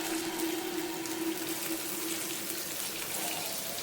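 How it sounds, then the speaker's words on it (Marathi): Hot water being poured into a pan of Konkani-style pomfret fish curry with raw mango and ground masala, a steady close pouring and splashing rush over a faint low hum, with no talking. "यात मी गरम पाणी घालून घेतो."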